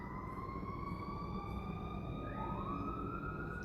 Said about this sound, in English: Y'all hear that siren in the background?